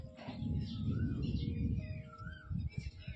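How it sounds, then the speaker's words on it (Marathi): An Asian koel calls a few times, clear and moderately near, over a low rumble under a heavy, overcast monsoon sky. "कोकिळाचा कुहू कुहू आवाज."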